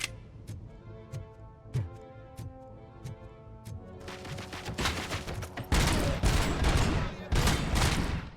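Gunfire in RoboCop: Rogue City, starting as single spaced metallic shots over a low ticking background, then building into loud rapid bursts of automatic fire in the second half.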